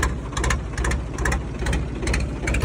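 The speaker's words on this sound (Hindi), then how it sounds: "वैसे तो ट्रैक्टर ठीक चल रहा है यार।" A tractor engine runs steadily, a loud low rumble with rhythmic clattering bursts repeating every half second or so, close by and without talk.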